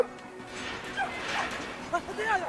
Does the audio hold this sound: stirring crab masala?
no